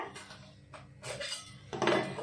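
A cooking pot is set down on a lit stove while bottle gourd and tomato curry is being prepared, giving a few close metallic clanks and scrapes, the last one loudest.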